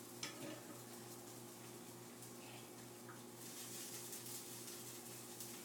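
A tortilla fries in hot oil in a home kitchen while making enchiladas, giving a steady, close sizzle and crackle with faint clinks of a pan throughout and no talking.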